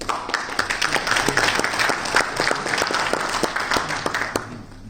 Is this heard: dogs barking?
no